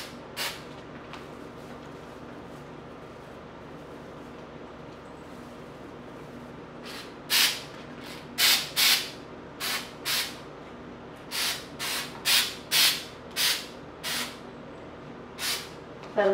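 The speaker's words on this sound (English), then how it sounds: "Sa taas ako mag-spray." Short hissing bursts from a spray can coat an old Christmas tree indoors: one early puff, then a quick run of about a dozen close, evenly spaced sprays over a steady low background hum.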